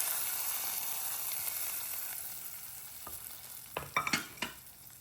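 Liquid poured into a roasted coconut chicken curry in the pot gives a faint, soft hiss, then a few quick crackling bursts of sizzle near the end.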